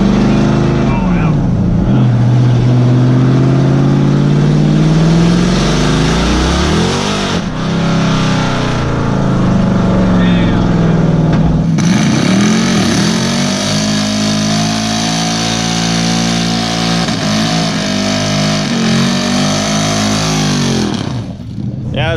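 A car engine with its exhaust chopped off revs hard and raw, loud and close, rising and falling in pitch through several throttle blips, with brief voices amid the roar.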